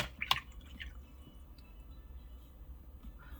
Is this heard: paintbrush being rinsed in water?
yes